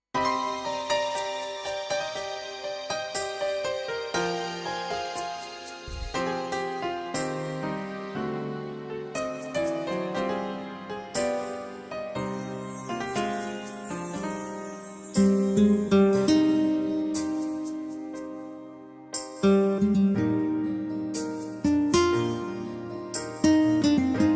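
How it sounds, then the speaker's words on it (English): A Yamaha Genos 2 keyboard plays the intro of a 90s epic ballad style, with layered sustained chords and a melodic line building steadily. The band swells fuller around the midpoint and carries on alone with no voices. "So this is a style called 90s epic ballad, and intro 2 sounds like this."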